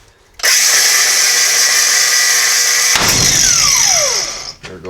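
A high-pitched power cutting tool bites through a U-bolt on a 1978 Jeep J10 axle, starting abruptly and whining loudly and steadily, then the pitch drops as it winds down near the end.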